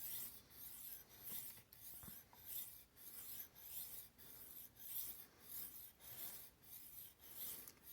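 A knife blade rubbed back and forth on a sharpening stone while polishing the bevel, giving a steady rasping scrape in about a dozen even strokes, close and fairly quiet.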